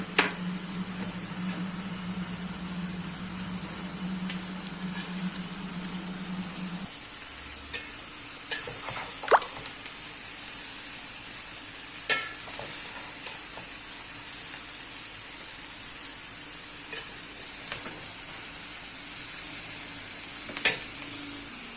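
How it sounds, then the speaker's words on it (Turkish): Bulgur for kömeç stirred in a frying pan, a steady close sizzle with scattered scraping clicks and taps of the spoon, louder hiss in the first seven seconds then quieter. "kömeci karıştırdım"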